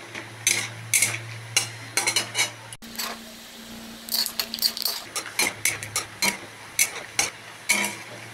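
Peanuts frying in a pan for kochu shaak, with repeated scraping and stirring strokes against the metal in an irregular rhythm over a faint sizzle, close and fairly loud.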